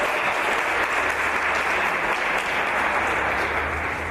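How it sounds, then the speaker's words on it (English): Steady, dense applause from a large audience at a Cyril Ramaphosa Foundation event fills the space evenly for several seconds without a break. "Let's give her a big round of applause."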